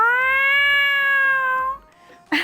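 A person's voice imitates two cats fighting, producing a loud, sustained strained yowl that wavers for nearly two seconds, then breaks off into a brief rough hiss.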